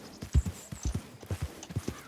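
Horse hooves clip-clop in the video game Red Dead Online, a quick steady run of soft, close hoofbeats in an uneven galloping rhythm heard on their own.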